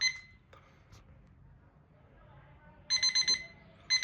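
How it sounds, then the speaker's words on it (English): Electronic alarm beeps from a Bajaj Shakti 25L electric water heater sound in rapid clustered pulses, a burst of several beeps, a pause, then another burst starts, over a low background hum. "So it will set off an alarm like this."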